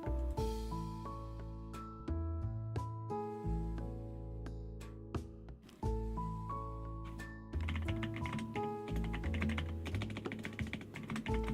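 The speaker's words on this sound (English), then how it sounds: "you hear me furiously typing" Fast, furious typing on a computer keyboard, a dense run of close clicks and key taps that pauses briefly and then picks up harder, heard alone over steady background music from a Twitch stream.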